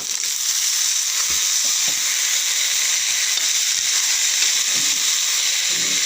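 Potato pieces sizzle steadily in a hot pan with fried onion, dry red chilli and whole cumin, a dense continuous hiss with a few soft clinks of a spoon, close and loud throughout.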